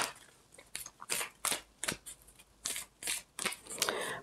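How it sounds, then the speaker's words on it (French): Petit Lenormand oracle cards are shuffled by hand in a quiet room, producing a rapid series of crisp riffling and flapping bursts, close and fairly soft, with no talking. "je vais commencer le tirage avec mon oracle du Petit Lenormand."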